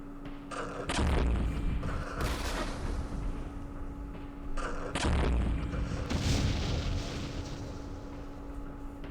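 Mortar fire in the Vietnam war game Campaign Series Vietnam at Dien Bien Phu, several loud booming impacts with rumbling decay, arriving in two clustered groups over a steady background hum.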